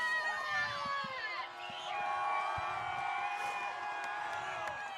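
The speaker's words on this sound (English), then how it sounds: "this crowd is absolutely electric tonight" Crowd at a 2023 high school football game, Waverly at Unioto, roars and cheers steadily throughout, with shouts and whoops over a dense, sustained wash of noise that never drops away.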